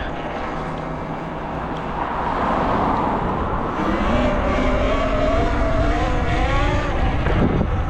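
A Talaria Sting R electric dirt bike lifts into a wheelie, its motor whine rising and shifting in pitch against steady, loud wind rush across the microphone, with no talking.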